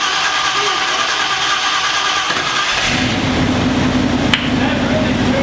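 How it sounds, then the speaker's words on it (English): A 1965 Chevy C-10 engine cranks with a loud, rapid starter whir close up, then catches midway and settles into a deep, rough running rumble. "That starter cranks, dude."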